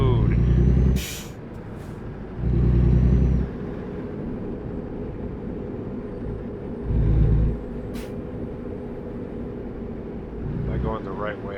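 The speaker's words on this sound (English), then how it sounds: "So we get our truck in gear and go over here and pick up our load." A big rig rolls through American Truck Simulator with a steady engine drone and road rumble, broken by several loud bursts of air-brake hiss, while someone talks over the game.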